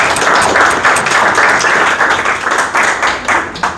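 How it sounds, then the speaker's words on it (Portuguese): A church congregation applauds during a Catholic lesson, close and loud clapping with a pulsing rhythm of overlapping hands, slightly uneven as it winds down. "Uma salva de palmas para minha mãe igreja."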